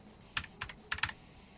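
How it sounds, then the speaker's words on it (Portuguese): Four quick, soft keystrokes on a computer keyboard, close but quiet, in a brief uneven burst with no voices. "vou digitar aqui no campo Core"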